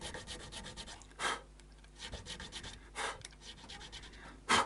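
A file rasps in short, quiet back-and-forth strokes as a guitar nut slot is widened on a Tokai Firebird, with a few brief louder scrapes among the soft rubbing.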